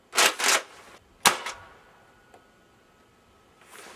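A Nerf Rival Atlas blaster fires foam balls: a quick pair of sharp snapping shots, then another single snap, followed by faint mechanical ticks and a soft rustle near the end.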